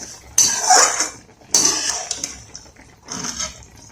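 Bread halwa stirred in a pan, with bursts of metal spoon scraping and clinking against the pan in three separate rounds, close and fairly loud.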